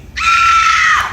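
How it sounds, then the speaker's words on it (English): A woman's high, sustained Hollywood horror-movie scream at a studio special effects show, loud and piercing, holding steady for about a second before cutting off, with no other voices. "she has an epic Hollywood scream"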